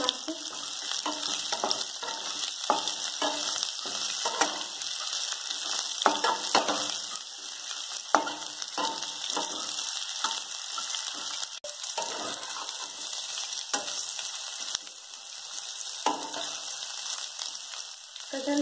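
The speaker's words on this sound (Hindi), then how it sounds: "तो मैंने कटहल डाल दिया और इसे हम फ्राई कर लेंगे अच्छे से मीडियम आंच पे।" Jackfruit pieces fry in hot mustard oil over medium heat, giving a steady, loud, continuous sizzle with scattered crackles and occasional stirring clicks, with no voices.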